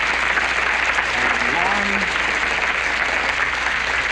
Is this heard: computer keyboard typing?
no